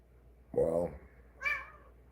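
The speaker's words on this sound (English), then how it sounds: "No, we don't need you to meow." A house cat meows twice, a longer lower cry followed by a shorter higher one, close and clear against a quiet room.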